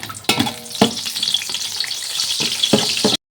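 Whole spices such as cinnamon, cardamom and cloves frying in a full 200 g packet of Dalda for biryani, a bright continuous sizzle broken by a few sharp stirring clatters, close and loud with no talking.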